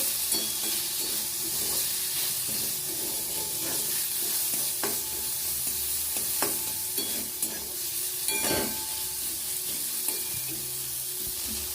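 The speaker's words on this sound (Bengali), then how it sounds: "হলুদ মুড়ো দেবো ভালো করে নেড়ে নেব" Onion and tomato frying in a pan with salt and turmeric for an egg bati bhapa, a steady sizzle and hiss broken by spoon-scraping stirs, close and continuous, with no voices.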